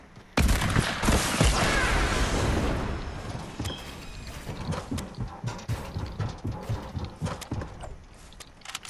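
Minigun fire in the Fortnite video game opens with a loud, dense sustained burst that gradually thins into rapid rhythmic rattling shots continuing to the end, with no talking.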